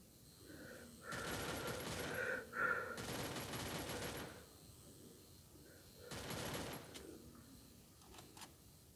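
Rapid automatic gunfire in a video game, a new game mode, coming in several loud sustained bursts of about a second each, with quieter gaps between them.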